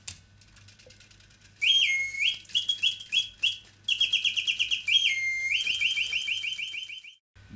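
A mechanical bird automaton performs a nightingale song, with rapid repeated whistled trills and chirping runs in two long bursts after a quiet start, close and loud over a faint low mechanical hum, with no talking.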